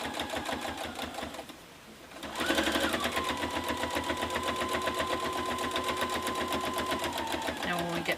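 A sewing machine stitches through thick layers of fabric for a DIY advent calendar, starting after a brief pause and then running as a loud, steady, rapid mechanical whir with a rhythmic needle chatter close by.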